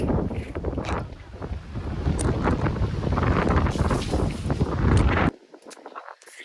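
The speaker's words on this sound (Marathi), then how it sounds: "बापरे काय थंडी हवा लागत आहे" Cold wind blows hard at a hill station, a loud, continuous roar of gusts buffeting the microphone that cuts off abruptly near the end, leaving quieter air.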